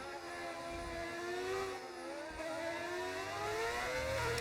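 A video game racing car engine, using a sound mod, drones steadily at high revs, its pitch sliding up and down through gear changes, loud and continuous with no talk.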